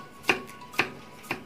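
Three sharp knife chops on a cutting board, evenly spaced about half a second apart, close and fairly quiet, while garlic is minced by hand with no talking.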